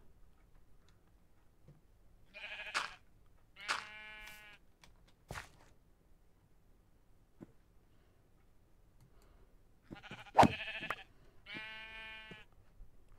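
Minecraft sheep bleating in a video game, a few separate short bleats spaced apart over quiet background with faint ticking.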